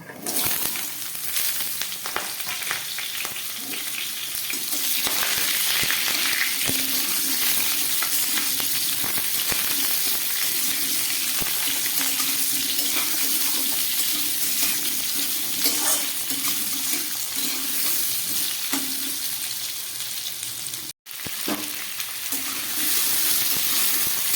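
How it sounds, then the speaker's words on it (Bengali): Cut pumpkin and potato frying in oil in a wok, a loud continuous sizzle and hiss holding steady throughout, with occasional stirring scrapes and one brief dropout near the end. "এর মধ্যে আমি কিছুটা কেটে রাখা কুমড়ো ভেজে নেব"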